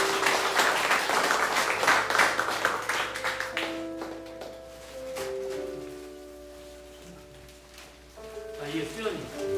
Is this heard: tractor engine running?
no